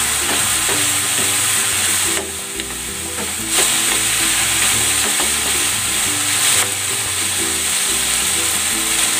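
Sweet potato, carrots and potatoes frying in a pan as lumpia filling: a loud, continuous sizzle with stirring scrapes, close by and with no talking.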